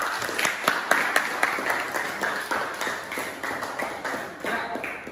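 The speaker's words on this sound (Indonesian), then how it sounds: "tepuk tangan untuk kelompok 3" A classroom applauds group 3 with scattered, uneven claps. Sharp individual hand claps repeat over a low background murmur and fade slightly toward the end.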